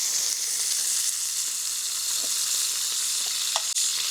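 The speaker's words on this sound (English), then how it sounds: "And now I'm gonna baste the steaks" London broil steaks sizzle loudly in a pan with butter and shallots while being basted, a dense, steady close-up frying hiss with a couple of faint clicks near the end.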